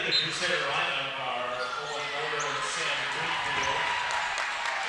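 Crowd applause rises in a school gym at a boys' high school regional basketball game as two players come off the court. The clapping is moderate and steady beneath a commentator's voice.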